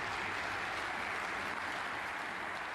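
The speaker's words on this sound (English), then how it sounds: "a round of applause" Sustained applause from a snooker audience at the German Masters 2024 semi-final between Judd Trump and Sam Craigie, an even, moderately distant patter with no talk.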